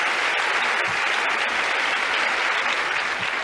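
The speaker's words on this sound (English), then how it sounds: "let's have a big round of applause for all the winners tonight" Audience applause for the winners at the 1988 Academy Awards ceremony, a dense, steady wash of clapping filling the hall throughout, loud and continuous with no talk over it.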